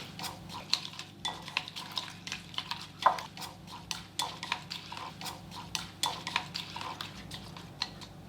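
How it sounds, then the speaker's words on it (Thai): Quick, light clinking of a utensil against a bowl as beaten egg mixture is stirred, a steady irregular tapping rhythm, close and fairly quiet. "แล้วก็คนให้เข้ากันดีเลยครับ"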